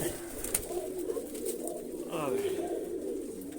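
Close, throaty pigeon coos roll on and off beneath people talking, with a steady murmur of birds in the background.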